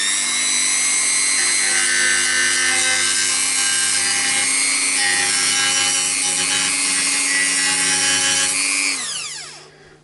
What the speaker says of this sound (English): I'm going to hit it with a couple of these old Dremel things